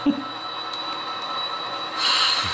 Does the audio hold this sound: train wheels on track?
yes